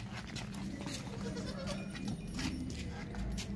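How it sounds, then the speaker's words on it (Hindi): A healthy female goat and her kid bleat faintly amid a rustling, noisy pen, with soft short calls scattered through the steady background. "टोरी चल भागती दौड़ती खाती पीती सेहतमंद बकरी है"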